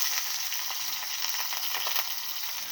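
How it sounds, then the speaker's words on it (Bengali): Chopped vegetables, cauliflower stems and brinjal among them, frying in hot oil, a dense bright steady sizzle with faint crackles throughout, near and without talk. "এগুলো সব এবার তেলের মধ্যে ছেড়ে দেবো,"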